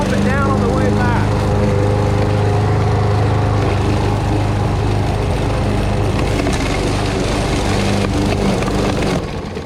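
Lawn mower engine running steadily and loud at close range while pushing into tall grass and weeds, with woody splintering and crackling of stalks through most of the stretch.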